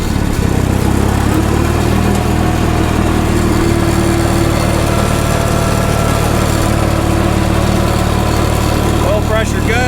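Minneapolis-Moline prototype crawler tractor (#X253) engine running steadily near and loud, throttled up slightly as it moves off in second gear, with a constant low drone and a voice talking over it.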